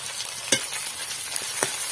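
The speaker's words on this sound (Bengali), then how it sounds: "এবার একটু এগুলো ভাজা ভাজা হবে।" Chillies, chopped garlic, onion and ginger sizzle in hot oil in a home kitchen, a close, steady frying hiss broken by a few sharp crackles and pops.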